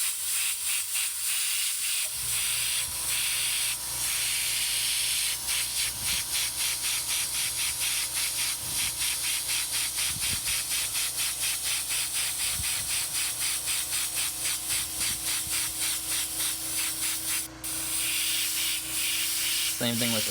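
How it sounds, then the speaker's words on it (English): An airbrush sprays paint in short upward dagger strokes across a T-shirt for a graffiti lettering design, a steady close airy hiss running continuously with faint rhythmic pulses and a low mechanical hum beneath. "I like to start at the bottom, doing little dagger strokes up."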